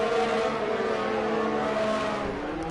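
Race cars in an F1 racing video game accelerate together in a pack on the Baku street circuit, a loud, steady, high-pitched engine drone with shifting revving pitch and no talking.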